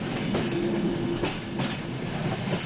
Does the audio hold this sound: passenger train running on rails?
yes